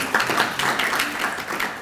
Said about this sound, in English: okay, you can clap for me, please.